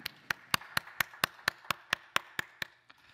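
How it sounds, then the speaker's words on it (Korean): Church congregation at a Sunday worship service claps together in unison, about a dozen sharp, evenly spaced claps in a quick steady rhythm, fairly quiet, ending with one softer trailing clap. "영광의 박수 올려드리겠습니다."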